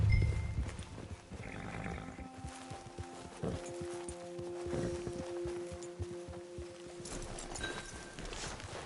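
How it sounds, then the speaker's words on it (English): Horse hooves walking in the Western video game Red Dead Redemption, a steady clip-clop of footfalls at close range over soft ambient game music tones. "Get your horse."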